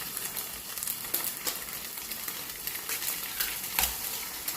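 Eggs frying with onion, turmeric, chili powder and salt in a pan, a soft steady sizzle broken by scraping stirs and small crackling pops, moderately quiet and close, no voices.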